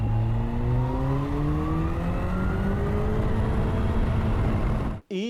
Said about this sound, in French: On va très très vite, puisqu'on a le moteur de la Ninja H2, 200 chevaux, 210 avec l'air forcé, compressé